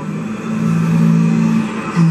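A simulated space elevator drive engages at a science museum ride, giving a steady loud low engine-like hum with a rising whine that holds throughout and swells again at the end.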